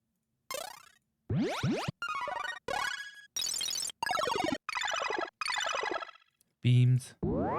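Series of short royalty-free magic spell sound effects, each a bright sweeping, shimmering burst with rising and falling tones, about nine separate bursts played back to back with brief gaps.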